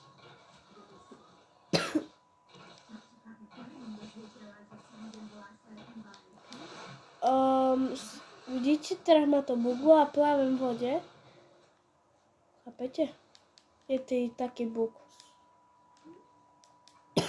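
A man with a cold coughs several times, sharp loud bursts scattered among his speech, with a short throat-clearing in places.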